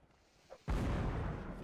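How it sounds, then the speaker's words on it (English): A howitzer firing in a multiplayer line-battle video game: one heavy, sudden boom that hits loud and rolls on as a sustained low rumble, with faint chatter before it. "I think they have a howitzer or something."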